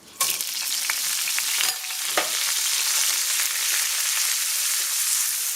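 Rice and spaghetti pieces sizzle steadily as they brown in a pan over medium heat, a loud continuous hiss with a few scraping stirs early on and no talk.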